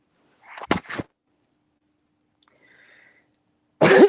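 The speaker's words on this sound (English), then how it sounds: "I'll stop coughing and hacking in a minute." A person coughs two or three times in a quick, harsh burst close up, followed by a pause with faint breathing and then another loud cough or throat-clearing at the end.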